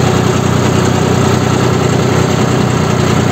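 John Deere 5310 tractor engine running steadily in gear, likely third, while harrowing a field; a continuous loud, even drone with constant vibration and no breaks or voices.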